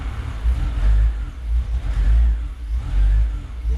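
A BMW E46 330ci engine, just started after an M3 competition clutch install, revs unevenly and hesitates in close, loud surges that rise and sag several times, with no talk.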